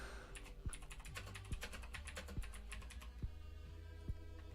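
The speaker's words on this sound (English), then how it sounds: "they're typing something in the chat right now" Computer keyboard typing in a quiet room: a steady run of crisp, close keystrokes with a few heavier thumps, no voices.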